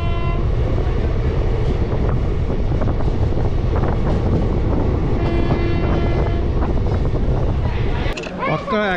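Balurghat Express train pulling into Katwa Junction, heard from on board: a loud continuous rumble of rolling wheels and carriage noise with wind buffeting, and a brief clatter near the end.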